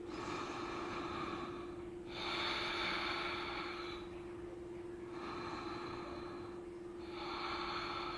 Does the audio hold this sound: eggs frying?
no